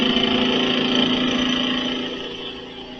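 A wood lathe spins at high speed during spindle turning, a steady loud whirring drone with a rich harmonic hum that holds evenly before easing slightly at the end, no voices present.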